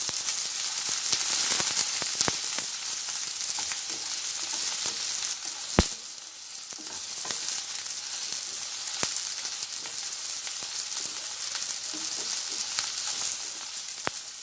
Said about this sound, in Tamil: இப்போ இதோட இந்த பச்சை மிளகாயும் போட்டு வதக்குவோம்.